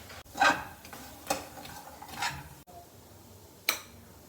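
Makhana (fox nuts) tossed with grated cheese and masala in a pan, stirred in a few scraping, rustling strokes with faint clinks of the utensil against the pan, close and fairly quiet, with no talking.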